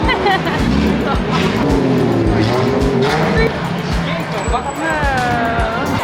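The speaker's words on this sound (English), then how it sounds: "there's some cool cars coming down here" Car engines roar and tires squeal as vehicles pass close by, loud and continuous, with a crowd's chatter mixed underneath.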